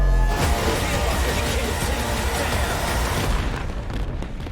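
Fireworks booming loudly in a dense, continuous barrage of bursts and pops, close and overwhelming for several seconds before easing slightly.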